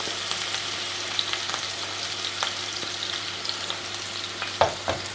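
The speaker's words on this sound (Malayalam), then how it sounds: "എണ്ണ ചൂടായിട്ടുണ്ട് ഇതിലേക്ക് ഫസ്റ്റ് നമ്മുടെ സവോള വഴറ്റാനായിട്ട് ഇടാം" Onions sautéing in hot oil make a continuous sizzle under a low steady hum, with occasional spatula knocks and scrapes against the pan, louder near the end, and no voices.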